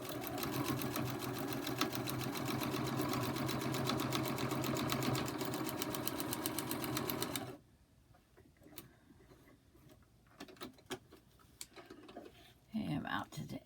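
A domestic sewing machine stitches fabric pieces with a steady, fast mechanical whirring and ticking that runs for about seven seconds, then cuts off to faint handling noises and a brief voice.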